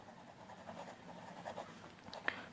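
Marker or chalk strokes on a classroom board, a steady soft scratching that continues through the whole stretch with a few slightly sharper squeaks near the end. No one speaks over it.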